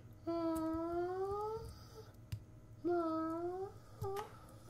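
A voice imitates clucking hens with two long, wavering, rising squawks separated by a brief pause, fairly close and alone.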